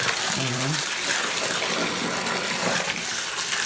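Water pours steadily into a bucket, filling it about a third full, a continuous broadband gush that stays near and fairly loud throughout with no talking.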